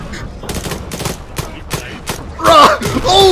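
Rapid bursts of gunfire crackle in the video game Arma 3, a quick irregular series of close shots, followed by a loud vocal shout over the last shots.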